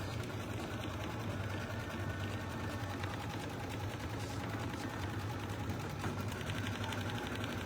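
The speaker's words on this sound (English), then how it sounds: "So I'm going to hit the placement stitch." An embroidery machine runs a placement stitch: a steady, rapid mechanical stitching chatter that continues unbroken at low level throughout, with no voices.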